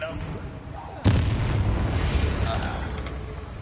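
A Confringo fire spell from a Hogwarts wizarding video game bursts in a single sudden booming blast that rolls on into a crackling rumble over steady background game noise.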